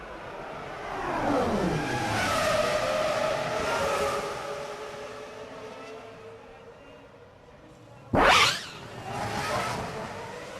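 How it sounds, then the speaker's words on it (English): Formula 1 race cars screaming past on the Monaco Grand Prix street circuit, engines rising and falling as they pass, then one car flashing by very close and loud near the end. "there he goes, right over the back of a McLaren of Coulthard"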